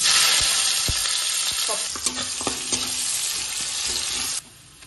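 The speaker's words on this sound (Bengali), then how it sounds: "আলুটা এবার আমি ভেজে নিই, পেঁয়াজটা ভেজে নেবো" Potatoes and onions frying in a pan give a loud, close sizzle with occasional stirring clicks and scrapes, then the sound drops off abruptly near the end.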